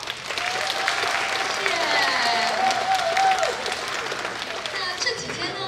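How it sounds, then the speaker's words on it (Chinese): An audience at a Seattle Chinese Spring Festival gala applauds child performers, with sustained close clapping that swells and fades while a voice briefly speaks. "再次用掌声给这些可爱的小朋友们好不好"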